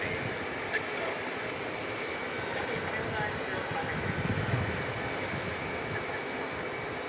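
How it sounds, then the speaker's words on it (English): Airliner going around at Phoenix Sky Harbor, a moderate, distant jet engine rumble holding steady throughout, with a voice faintly present underneath. "that's like our 4th or 5th go around"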